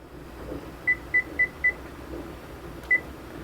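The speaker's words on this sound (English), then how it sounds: "And I will set my oven timer for 4 minutes." An oven timer being set gives four quick, evenly spaced short beeps, a pause, then one final beep, clear and close over a quiet kitchen background.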